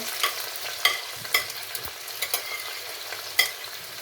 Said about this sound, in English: we'll be adding the onions